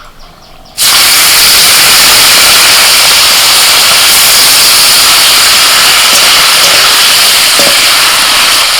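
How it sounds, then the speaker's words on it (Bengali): Prawns hit hot oil in a Bengali kitchen, and a loud, dense frying roar starts abruptly and holds steady, with faint clinks near the end. "এবার চিংড়ি মাছগুলো ভেজে নেবো"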